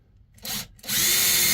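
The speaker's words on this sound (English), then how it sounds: "take the self-drilling, self-tapping screw and my impact gun," An impact gun drives a self-drilling, self-tapping screw into a pre-drilled hole for a wall TV mount, with a short burst, a brief pause, then a louder sustained whirring close by.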